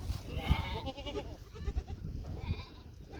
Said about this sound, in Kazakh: Сол қазір осы қой суғарып жатырық